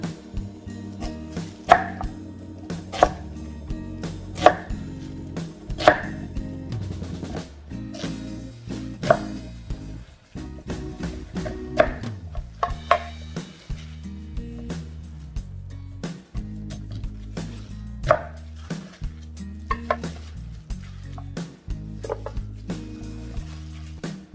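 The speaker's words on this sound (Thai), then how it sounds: "ต่อไปนะคะเราก็จะหั่นมันเป็นแว่นๆก่อนนะคะทุกคน" A knife slices a sweet potato into rounds on a cutting board, producing steady, close, crisp chopping thuds in a regular rhythm, with dozens of cuts and a few short pauses between runs.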